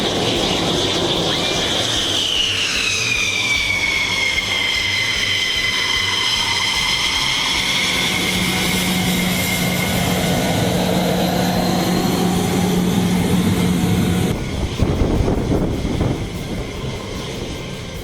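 A US F-16 Fighting Falcon fighter jet passes overhead with a loud, sustained engine roar and sweeping, falling whine that swells and fades over many seconds, with no voices.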